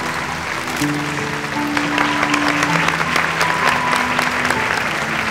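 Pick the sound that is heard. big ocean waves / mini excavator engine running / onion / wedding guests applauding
wedding guests applauding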